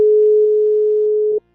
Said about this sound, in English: You're going to hear that little ringing there.